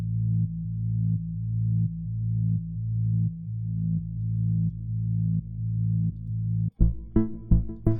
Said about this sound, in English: Got this synth pulse. Kind of a sidechained type sound. Stock Omnisphere.